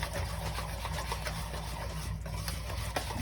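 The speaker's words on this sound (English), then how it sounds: "And then we're gonna whisk that in." A whisk beats rapidly against a bowl while peanut butter ice cream base is mixed with added vanilla, giving a fast, even rattling scrape that runs continuously and fairly loud with no pauses.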